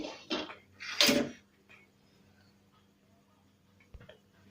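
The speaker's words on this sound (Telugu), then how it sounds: "ఒక గిన్నె తీసుకొని స్టవ్ మీద పెట్టి" A metal pot set down on a stove while making godhuma rava upma, two sharp clanks close together near the start, then quiet kitchen hum and a faint knock.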